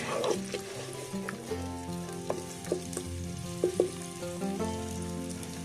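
Onions soften in a hot pan for yogurt (dahi) chicken, giving a steady close sizzle and crackle broken by occasional scraping stirs and small pops, with no talking.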